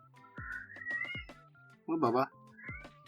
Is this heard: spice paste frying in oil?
no